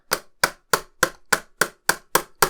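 Nine firm hammer taps on parts of a 1:8 scale 1961 E-Type Jaguar model kit land at a regular pace, close and fairly loud, each a short woody knock with silence between.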